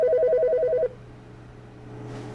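In The Stanley Parable video game, a telephone gives a fast warbling electronic trill that cuts off abruptly, leaving a low steady hum behind.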